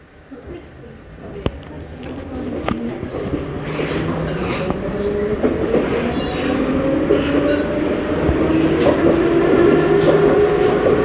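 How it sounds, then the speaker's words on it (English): A Budapest route 56 tram pulling into Moscow Ter in 1991, its rumble and rail clatter building steadily louder as it nears, with faint wheel squeal and clicks over the track. "The final step will be the 56 tram, which comes into Moscow Ter, which is doing at the moment."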